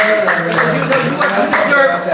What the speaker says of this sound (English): I want to just clap